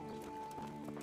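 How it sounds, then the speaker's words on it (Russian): Horse hooves clip-clopping as a horse gallops toward the player in Kingdom Come: Deliverance, a quick, faint series of hoofbeats over a steady tonal game background. "Алло, лошадка, ты где? Где этот вонючка? О, качет ко мне, дорогая."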